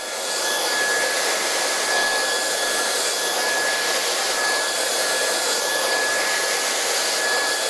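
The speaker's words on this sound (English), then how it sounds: "you're going to blow dry like right up and over" Hair dryer blowing steadily and loudly at close range while hair is blow dried with a round brush, a constant airy whoosh with a thin whine, no talking.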